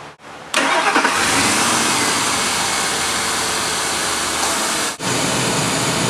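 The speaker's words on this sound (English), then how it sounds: "Now our engine is running" A car engine cranks and catches after a brief pause, then runs at a steady, loud idle, with a short dip near the end, during a vacuum leak test for an HVAC mode door problem.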